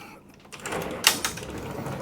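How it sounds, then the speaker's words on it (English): A residential pocket door sliding along its track in a Renegade Super C RV bathroom, a soft rolling glide that ends in a sharp knock, followed by a lighter second bump, close and alone. "It's a beautiful residential pocket door"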